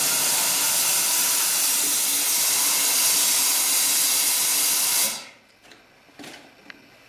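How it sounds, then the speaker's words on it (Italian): Steam is blasted over a cut-open plastic bottle, a loud, continuous broad hiss lasting about five seconds before cutting off sharply, followed by faint clicks and small handling sounds. "con del vapore andate a passare la bottiglia."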